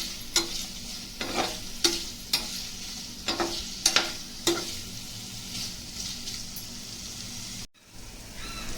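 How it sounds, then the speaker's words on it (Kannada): Paneer fries in a pan and is turned until golden brown, with a soft steady sizzle broken by clear, irregular spatula scrapes, then a short quiet gap near the end. "ಇದು ಸ್ವಲ್ಪ ಫ್ರೈ ಆಗಬೇಕು, ಗೋಲ್ಡನ್ ಬ್ರೌನ್ ಬರಬೇಕು. ಅಲ್ಲಿವರೆಗೂ ತಿರುಗಿಸ್ತಾ ಇರಿ."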